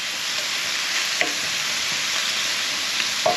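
Red onion frying in a pan, a steady broadband sizzle that runs throughout with a few brief clicks of stirring, close and alone with no talk.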